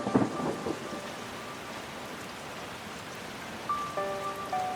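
Heavy summer rain downpour with thunder, a loud rumbling burst at the start followed by a steady wash of rain, with a faint tonal hum entering near the end.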